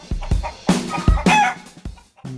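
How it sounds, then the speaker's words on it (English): Chickens cluck in short bursts while a rooster crows loudly, close by, with several calls overlapping across a few seconds. "Can you not hear the chickens?"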